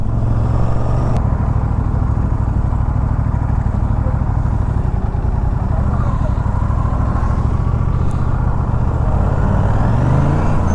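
An Aprilia RS 457 motorcycle fitted with a GPR exhaust, dB killer installed, rides at night on a highway near Karimnagar, giving a steady, loud, continuous engine drone with deep low rumble throughout.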